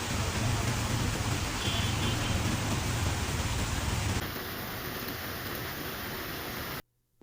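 Heavy rain pours onto flooded city roads in Karachi, Pakistan, a dense, continuous hiss of downpour that shifts slightly partway through, then cuts out abruptly near the end.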